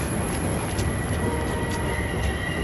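A train rolls along with a loud, steady rumble and roar and faint squeals from the wheels, with no voices.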